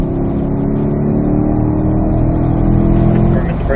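A C8 Corvette in third gear builds pace on a race track, its engine droning loud and close inside the cabin with a steady mid-range hum that rises slightly toward the end.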